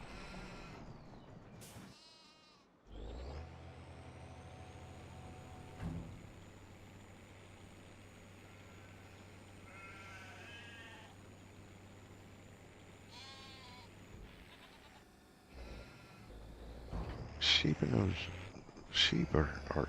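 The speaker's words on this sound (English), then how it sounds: "Sheep are eating quite heftily." Sheep bleating in Farming Simulator 25, several wavering bleats scattered over a low steady farm hum, with a louder cluster of bleats and clatter toward the end; a voice speaks briefly at times.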